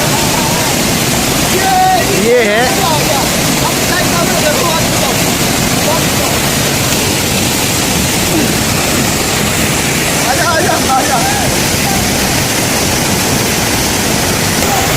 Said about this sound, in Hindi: अब पहुंच गए हम दूसरे झरने में, ये जो हमारे ठीक पीछे है यहाँ।